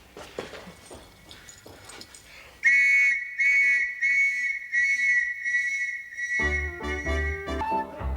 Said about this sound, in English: You could try whistling.